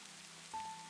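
Soft, steady rain falls as quiet, hissing ambience behind an audiobook, with a thin high tone briefly sounding near the end.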